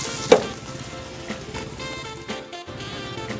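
Dried churi fish sizzles in a pan with salt and turmeric, a moderate continuous crackle with a sharp utensil knock near the start and a few stirring scrapes, no talking.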